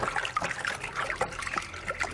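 Thick malt extract dribbles and splashes into a fermenter in small irregular trickles, quiet and close.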